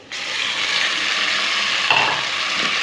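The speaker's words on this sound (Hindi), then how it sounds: "इसे अच्छी तरह से प्याज के साथ मिक्स करना है" Beef keema being stirred into browned onions in a hot pan gives a constant close sizzle, with a brief scrape of the spoon partway through and no talking.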